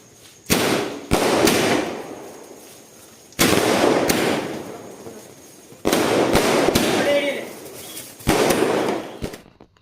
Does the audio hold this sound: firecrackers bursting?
yes